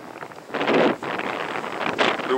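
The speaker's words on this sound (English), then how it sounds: "The wind has shifted, and I'll have a headwind on the way back." Wind buffeting a microphone during a bicycle ride near the top of Polychrome, a loud rushing roar that swells and dips over a couple of seconds.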